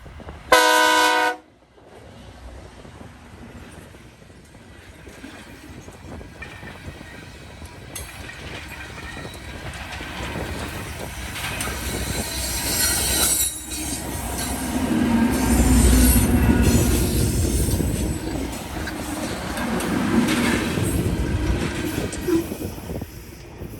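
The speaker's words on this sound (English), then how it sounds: "we see the same train again here at milepost 158 heading westbound" A Norfolk Southern train passes westbound on the Dayton District main line near milepost 158. A brief horn blast opens, then wheels rumble and squeal along the rails, swelling louder as the cars roll past and staying steady to the end.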